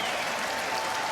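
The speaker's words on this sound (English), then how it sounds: "And a big cheer for a very important face in these parts." A rugby stadium crowd at an Exeter Chiefs versus Northampton Premiership semi-final cheers and claps as a player comes on, a broad, steady wash of distant noise.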